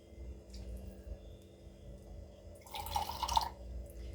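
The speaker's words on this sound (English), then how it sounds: "So let me add some water." Water poured into a pot of fish being prepared for a Kenyan-style wet fry, a short splashing rush near the end that lasts about a second over a quiet kitchen background.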